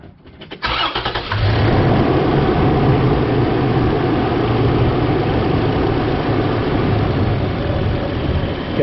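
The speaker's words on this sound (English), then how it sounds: "Start engine." A car engine cranks for just under a second during a battery cranking test, catches, and settles into a steady, close idle that continues to the end.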